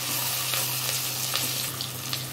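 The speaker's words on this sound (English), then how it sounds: "Now we'll add our cashew nuts. Let them also get fry along with onion." Onions and cashew nuts fry together in a pan with a soft, steady sizzle and a few light crackles underneath a constant low hum.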